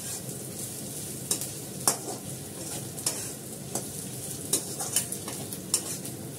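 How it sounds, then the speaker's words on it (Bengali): Food frying in a pan is stirred steadily, a soft continuous sizzle broken by sharp clinks and scrapes of the utensil against the pan about once a second, close by with no talking. "তো ভালো করে এটা নেড়ে নিচ্ছি।"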